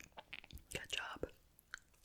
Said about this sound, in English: It's easy to eat the fries.